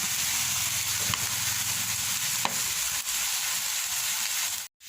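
Yellow egg noodles being stir-fried in soy sauce in a wok, with a steady close sizzle and hiss and a few brief clinks from the spatula, cut off abruptly at the very end.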